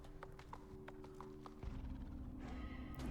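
Horse sounds from a dragon horse in a fantasy video game: faint hoofbeat-like clip-clop taps over a steady droning game ambience, then a louder rumble and a breathy snort-like burst near the end.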